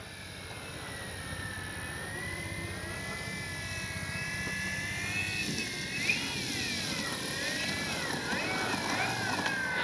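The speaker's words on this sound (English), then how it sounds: "look how slow, into the wind, look how slow that plane's flying" A Flex RV-8 60E G2 electric RC plane flies slowly into the wind, its motor giving a steady high whine that wavers and bends in pitch as it passes, heard continuously outdoors with a constant background hum.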